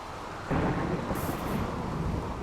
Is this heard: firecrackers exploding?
no